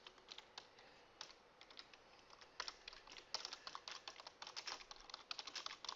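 Code being typed on a computer keyboard, quiet close keystrokes in irregular runs that grow busier toward the end.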